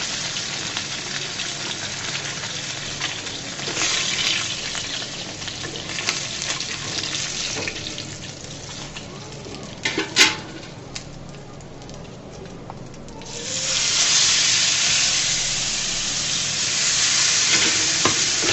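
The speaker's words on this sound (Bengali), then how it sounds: "দিয়ে দিলাম, এগুলোকেও সুন্দর করে ভেজে নিব বন্ধুরা" Potatoes hit hot oil in a pan just used for frying fish. A moderate, crackling fry with a few clatters swells into a louder, dense, continuous sizzle that holds steady to the end.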